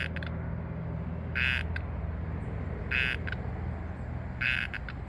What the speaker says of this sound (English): There's a little tree frog in there somewhere